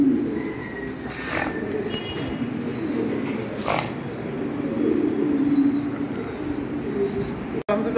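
Pigeons coo in a loft that holds German Modena and Andalusian shaking breeds, soft repeated low calls layered over a steady hum, with faint chirps and occasional sharper bursts scattered through.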